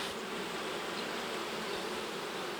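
Honey bees swarm around an Alpine-style hive as it is enlarged with an extra box, giving a dense, steady buzzing close by with no pauses and no voices.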